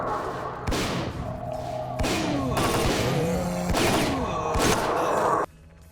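Repeated gunfire in the shooter game STALKER: Clear Sky: loud bursts of shots and booming impacts fire across several seconds at close range, then give way to a quieter ambient tail.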